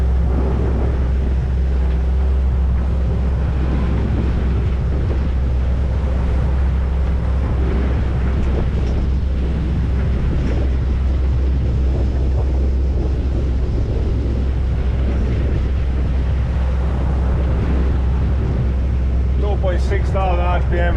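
Dufour 520 Grand Large sailing yacht motoring on open sea at around 9 knots, with a steady loud low engine drone mixed with wind buffeting and rushing water, continuous throughout.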